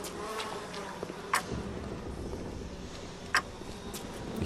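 Bees buzz around a beehive in the video game BioShock, a continuous, dense insect hum with a couple of brief sharp clicks, close and steady, with no talk.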